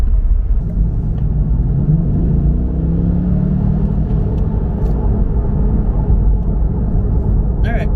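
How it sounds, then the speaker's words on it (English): Deep, continuous engine and road rumble fills the cabin of a C8 Corvette being driven, a low steady drone heard from inside with occasional faint clicks and noises. "First time driving a C8 Corvette."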